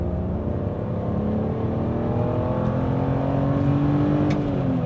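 A BMW E46 330ci pulls hard in second gear, its engine drone climbing steadily in pitch as it accelerates, loud and close, with no talking.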